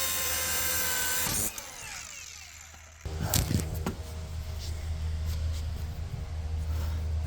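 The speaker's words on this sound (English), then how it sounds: "So now I'm gonna cut these bolts. These are U-bolts." A power tool cuts through steel U-bolts under a 2003 Ford Excursion during a leaf spring replacement, giving a loud, steady grinding whine that breaks off briefly and then resumes with a rougher, fluctuating tone.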